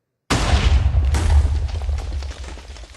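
A compact TNT cannon fires in a video game, one sudden heavy boom with deep rumble that rolls on and slowly fades over a few seconds, loud and close, with no talking.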